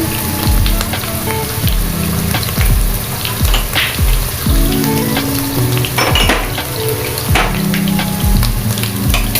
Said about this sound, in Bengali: নাড়তে থাকবে, কারণ মশলাটা ভালো করে কষাতে হবে।